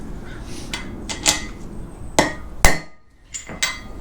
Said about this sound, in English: When the rotor bounces, that race is seated.